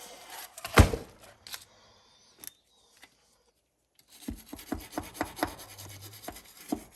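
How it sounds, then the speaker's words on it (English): A stainless steel wire brush scrubs paint off an engine part of a Dodge D300 dump truck, making short, rasping scrapes in bursts close by, with a quiet pause between the two groups of strokes. "this is a stainless steel brush that I'm using"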